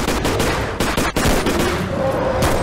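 Dense gunfire in the Bigfoot video game rattles loud and continuous, rapid shots blurring into a nonstop volley with only a brief gap.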